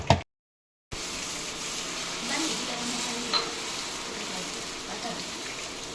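Batter made from leftover idli and dosa batter mixed with maida sizzles on a hot pan after a brief silence, a steady close crackling hiss that swells slightly midway.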